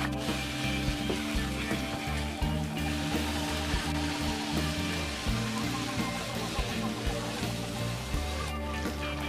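Puri frying in hot oil on a stove as the dough is pressed down, a steady dense sizzle with crackling bubbles running throughout, close and fairly loud, with no talk.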